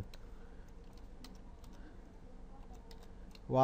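Quick, light keystrokes on a computer keyboard as a filename ending in .php is typed, soft steady clicking over a low background hum, with a voice starting up at the very end.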